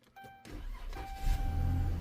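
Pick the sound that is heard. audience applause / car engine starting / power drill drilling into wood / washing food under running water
car engine starting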